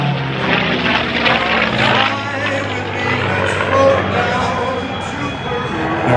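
P-51 Mustang piston engine roaring steadily through an aerobatic loop at an air show, with the oil cooling sound audible. The aircraft is at a moderate distance and a loudspeaker announcer talks over it.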